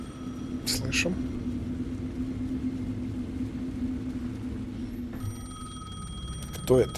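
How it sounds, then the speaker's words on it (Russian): An in-game telephone rings in Alan Wake 2, with repeated bright bell bursts at the start and end over a low ambient rumble and game soundscape; someone talks over it. "Так, мне звонят."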